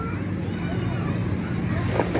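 Steady wind rushes and buffets outdoors in farm fields, a constant broadband roar with faint voices mixed in.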